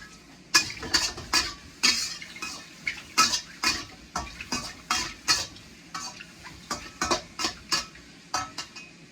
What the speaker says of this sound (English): I'm just letting my mushrooms cook just a little bit.